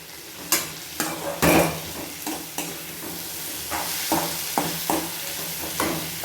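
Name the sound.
sautéing ingredients and curry leaves for citron chutney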